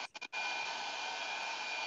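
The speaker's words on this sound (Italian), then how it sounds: "il phon, così me li asciugo" A professional hair dryer blows hair dry in a salon, starting with a few short on-off bursts and then running as a loud, steady, close whoosh with no talk.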